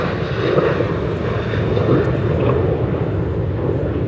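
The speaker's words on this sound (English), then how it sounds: "plane going overhead if you hear" An airplane passes overhead near a big airport, its broad engine roar steady and fairly loud throughout with no break.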